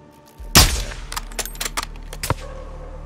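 A sharp loud gunshot cracks out in Call of Duty Modern Warfare 2, followed by several fainter scattered shots and impacts trailing off over a couple of seconds.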